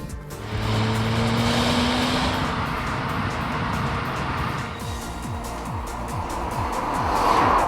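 A car engine drones steadily as the vehicle is driven, revs rising and falling with gear changes, loud and close throughout with no talking.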